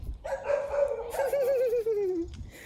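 A dog gives a drawn-out whining yelp, a single long wavering cry lasting about two seconds, fairly close with faint background noise and no talk.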